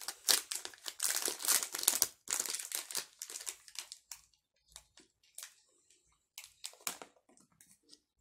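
A strawberry jelly snack cake's plastic wrapper is torn and crinkled open up close, with dense loud rustling at first and then sparser crackles and small crinkles, no talking.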